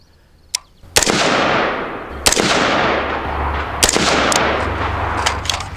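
Rifle fired from a kneeling position at a target on the 25 yard line: four loud, sharp shots spaced about a second and a half apart, each followed by a long rolling echo outdoors.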